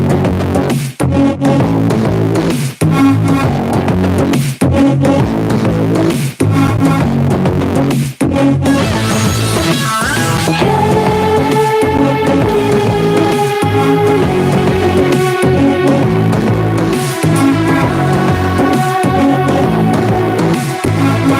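The track plays on a radio show, a full band mix with a driving pulse that pauses briefly several times early on and then carries on without talk.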